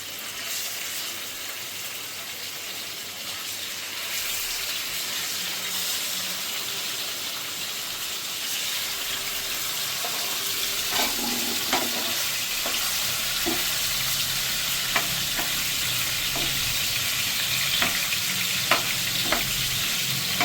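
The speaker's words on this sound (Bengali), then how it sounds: "এবার মাছটাকে একটু ভালো করে ভেজে নেব।" Pieces of katla fish rubbed with turmeric and salt fry in hot oil, giving a steady close sizzle that grows busier and crackly with scattered pops partway through, with no talk over it.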